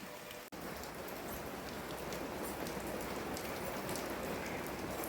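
Light rain falls steadily, a soft even patter and hiss of drops on surfaces, faint and continuous after a brief click at the start, with no voices.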